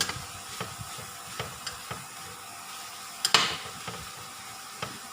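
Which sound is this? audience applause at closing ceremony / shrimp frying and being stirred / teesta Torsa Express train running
shrimp frying and being stirred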